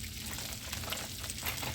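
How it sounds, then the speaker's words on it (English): Chicken tenders frying in a pan, a soft continuous sizzle and crackle of hot oil, fairly quiet and steady with no talking. "my sizzle kind of went down a little bit, didn't it?"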